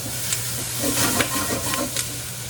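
Vegetables and sliced leeks sizzle and steam in a pot for oyster chowder, a steady soft hiss with occasional light stirring clinks and faint crackles.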